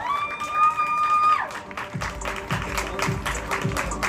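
At the Tequisquiapan 2024 Feria del Toro, a crowd applauds a performance with a steady wash of clapping and some cheering, after a sustained musical tone fades out at the start.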